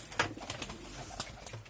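Soft pigeon coos murmur close by inside a pigeon loft, low and faint, a few short burbling calls in a quiet space.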